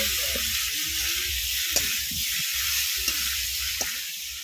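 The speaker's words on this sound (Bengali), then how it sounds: "হলুদ গুঁড়ো দিয়ে আবার একটু কষিয়ে নিচ্ছি।" Mete potato curry sautéing in a pan with ginger, garlic and turmeric, a continuous bright sizzle with low scraping stirs and a few small crackles, close and fairly loud, no talking.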